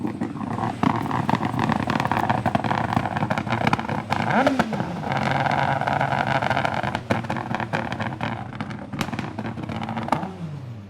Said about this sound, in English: that's how you run up a World RX car